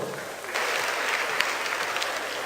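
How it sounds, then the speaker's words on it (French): Audience applause for police commissioner Wayoro at a comedy show, a dense steady burst of many hands clapping that swells after a brief start and holds evenly throughout. "Je voudrais qu'on puisse applaudir le commissaire Wayoro."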